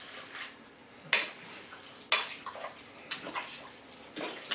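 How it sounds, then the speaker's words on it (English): Water is poured into a pot of Pennsylvania Dutch noodle stew in a home kitchen, arriving in several separate splashy bursts with faint clinks between them and no talking. "I'm going to add a little bit more water to it because I don't have water covering it completely."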